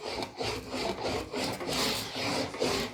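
A sheet metal panel for a custom truck box is rolled back and forth on an English wheel with a higher crown anvil. It makes a continuous close rubbing, rolling sound that swells and fades with each pass, with no talking.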